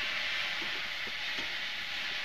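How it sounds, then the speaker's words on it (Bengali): Onions frying in oil spiced with dried chilli, bay leaf and five-spice seeds in a pan give a steady, close, loud sizzling hiss that holds without a break. "ভালোভাবে আমি ভাজে নেব।"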